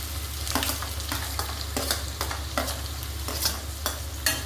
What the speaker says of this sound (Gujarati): ડુંગળી આપણે થોડી લાઇટ બ્રાઉન થઈ જાય ત્યાં સુધી આપણે એને સાંતળીશું